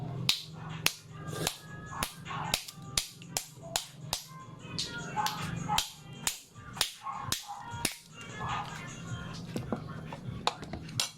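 A hard seafood claw shell is cracked open during a seafood meal, giving a long series of sharp, loud snaps and crunches at irregular intervals close by, with people talking quietly between the cracks.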